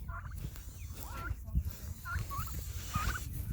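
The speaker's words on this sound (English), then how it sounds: "Another turkey. Look at all of our turkeys." Several turkeys in a backyard coop gobbling, repeated warbling calls a few seconds apart, moderately near over rustling background noise.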